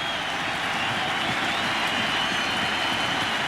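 A Yankee Stadium crowd at a 2000 World Series game roars steadily with cheering and applause, a dense continuous wash of noise throughout.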